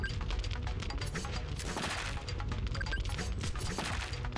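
Gunfire from a pet turret in the game DUD rattles continuously in a dense, rapid stream of shots, loud and unbroken from start to finish, layered with clattering hits.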